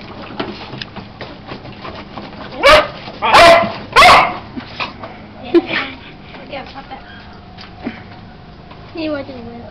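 Dogs barking and yipping in a house, a burst of several loud close barks near the middle with softer whimpers and sniffing around them, a person talking over the scene.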